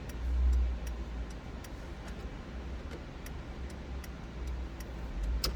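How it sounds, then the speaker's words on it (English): Turn signal blinkers in a 2000 Camaro tick faintly and steadily at an even rhythm over a low engine hum inside the car. "and our blinkers are working"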